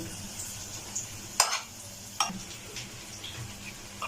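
A spicy roll filling with red chilli and green chilli is stirred in a pan over a soft sizzle, with a few distinct spatula scrapes and knocks close by and no talking.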